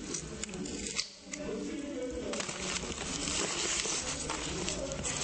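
Garden shears snipping through flowering plant stems outdoors, cut just above the second node; a crisp snip near the one-second mark stands out over steady rustling background noise.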